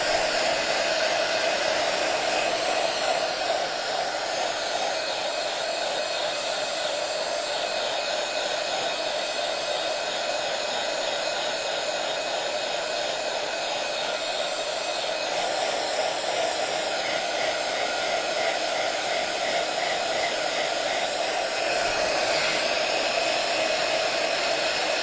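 A heat gun or hair dryer blowing steadily to dry paint on a house exterior, a loud continuous whooshing whir that holds for the whole stretch with slight shifts in tone.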